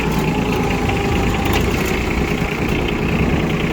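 A Yanmar F155 Japanese mini tractor with a 15 hp three-cylinder engine runs nearby, idling loudly and steadily with a dense, continuous mechanical chug and no pauses.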